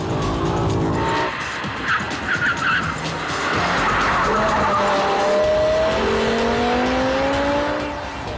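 A 1.8-tonne BMW M6 with a V10 engine laps a roughly 1,800-metre test track in Baden, its loud engine roar overlaid by sustained, rising tire squeals as it drifts through corners.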